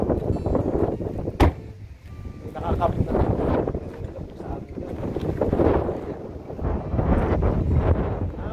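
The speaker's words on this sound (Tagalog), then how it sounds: "ang lakas ng hangin, grabe" Strong wind buffets the microphone in a constant heavy roar at a pine-forest campsite in Elkwater, Alberta, with a person speaking underneath and a brief knock partway through.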